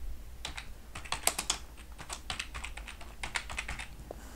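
Typing on a computer keyboard to enter a lake name into a mapping program, with bursts of quick, close, crisp key clicks separated by short pauses.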